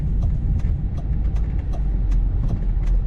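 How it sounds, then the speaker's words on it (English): A yellow 2002 Ford Thunderbird convertible drives along with a steady low engine and road rumble, close and continuous, with faint rhythmic ticks over it and no talk. "Today we're driving a 2002 Ford Thunderbird in a nice yellow color with yellow and black on the inside."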